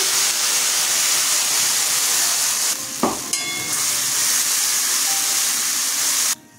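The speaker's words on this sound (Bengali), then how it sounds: "তেল গরম হয়ে গেছে, কাঁচা লঙ্কা দিলাম ফোড়নে আর কালো জিরা দিলাম" Green chilies and nigella seeds hit hot mustard oil as a tempering, giving a loud, steady sizzle and hiss with a brief clatter midway and no speech over it.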